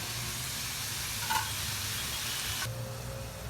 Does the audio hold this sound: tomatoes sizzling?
yes